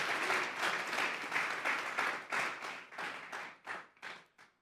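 A church congregation claps hands together as an offering to God, a dense burst of applause that falls into rhythmic unison claps, fading and thinning toward the end.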